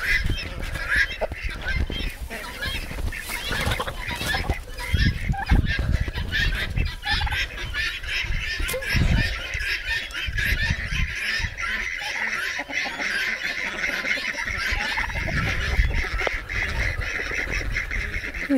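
Farm ducks, geese and other fowl honk, quack and cluck together in a loud, continuous chorus, with overlapping calls close by throughout.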